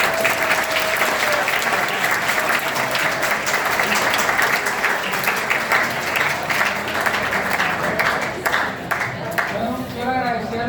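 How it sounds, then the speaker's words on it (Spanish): Sustained audience applause fills a conference hall, dense steady clapping from a large crowd throughout, with a few voices and faint cheers rising near the end. "un aplauso para ustedes mismos"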